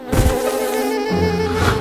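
Bees from a cartoon cooking-hack scene buzz in a continuous, steady drone that persists for the whole short stretch, fairly loud and close, with a slight shift in pitch midway and no talk over it.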